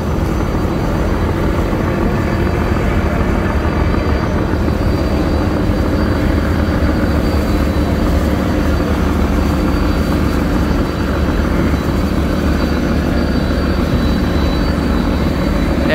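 The engine of the passenger launch Adventure-9 drones loud and continuous at speed while overtaking on the river, a steady heavy roar with rushing water and wind and no talk.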